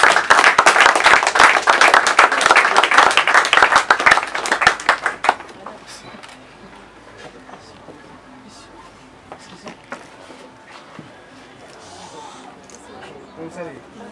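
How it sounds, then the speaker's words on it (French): Audience applause at a closing event for the month of women, a dense burst of clapping for about five seconds that cuts off abruptly, leaving scattered claps and quiet murmuring room tone. "Sous vos applaudissements,"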